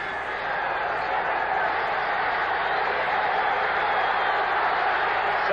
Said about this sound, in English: a noisy crowd at Commonwealth Stadium